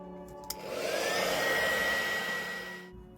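A hair dryer blows on a handmade book cover, switching on after a click, rising to a steady close whir with a thin whine for a couple of seconds, then shutting off.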